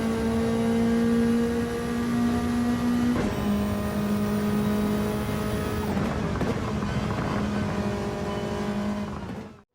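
Toyota 3S-GTE four-cylinder engine of the Castrol Tom's Supra racing car in Gran Turismo 7, a loud, sustained engine drone whose pitch steps down at shifts partway through, running continuously until it cuts off at the end.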